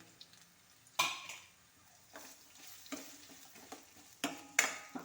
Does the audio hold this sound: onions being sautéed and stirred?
yes